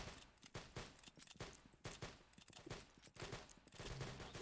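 Rapid gunfire from a pepper gun and other weapons in the Roblox game Arsenal crackles in quick bursts and single cracks, fairly faint and layered over game ambience.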